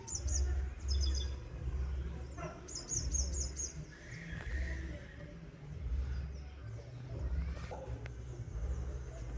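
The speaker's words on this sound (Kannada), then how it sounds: "ಚೂ ಚೂ ಚೂ ಚೂ ಅಂತೇಳಿ ಹಕ್ಕಿಗಳು ಚಿಲಿಪಿಲಿ ಸೂಪರ್ ಆಗಿರೋಂಥ ವಾತಾವರಣ." Birds chirp outdoors in the morning with short bursts of tweets in a few clusters over a low background rumble, and the faint chirps come and go.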